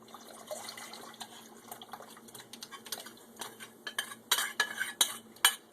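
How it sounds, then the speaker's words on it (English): Spoon stirring cornmeal porridge in a pot, soft scraping and clinking strokes that grow louder and sharper toward the end, close and alone. "Then I'm going to stir here, because you can see there's still more cornmeal porridge that isn't completely mixed in"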